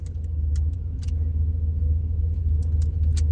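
Turbocharged Dodge Dakota R/T with a stock bottom end doing a drag-strip burnout, its engine a heavy, sustained low rumble held steady throughout, with sharp crackles and pops over the top.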